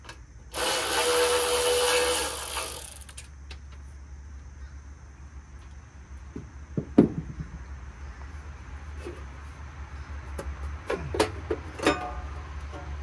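A quarter-inch wrench works a part off a lawn mower: a loud burst of broadband whirring in the first seconds, then scattered close metallic clicks and clanks, with no talk.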